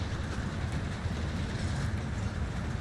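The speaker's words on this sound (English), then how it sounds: "so we're about to hop in the train here in a second" A train rolls along its rails in Call of Duty Warzone, giving a constant low rumble with rattling, close and steady, with no talk over it.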